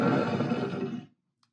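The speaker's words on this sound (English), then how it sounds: "Then there's a monster roar." A loud, harsh monster roar sound effect plays from a haunted house speaker with a built-in player, one sustained growling blast lasting about a second before it cuts off abruptly into silence.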